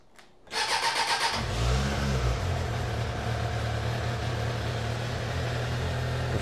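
A Suzuki Bandit motorcycle with a refitted exhaust starts up, a brief starter whirr catching into a loud, steady idle that drones on close by with no talk.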